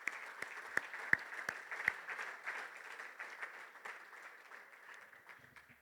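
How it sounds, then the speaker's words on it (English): Applause from a crowd at a referees' annual awards dinner, steady clapping with a few sharp louder claps early on, gradually fading out toward the end. "Give them a round of applause, please."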